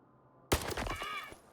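After a brief quiet, a single sharp gunshot from a GP37 rifle in the video game S.T.A.L.K.E.R. bursts out loud and close, followed by a short ringing, crackling tail.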